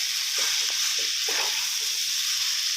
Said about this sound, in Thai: อ่าผัดคลุกไปเรื่อย ๆนะครับ